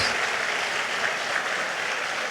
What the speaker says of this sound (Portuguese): Vamos dar uma forte salva de palmas para esses pastores lindos